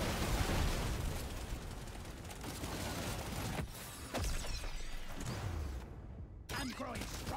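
Explosions from the video game Deep Rock Galactic Survivors, heard as dense, continuous booming and bursting noise over the game's busy soundscape, with someone talking over the action throughout.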